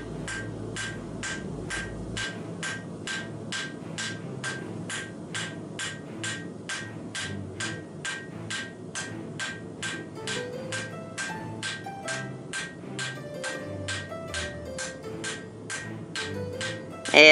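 Iron bar corners being hammered at a forge: a steady, rapid run of sharp metallic blows, evenly spaced and close, continuing alone throughout.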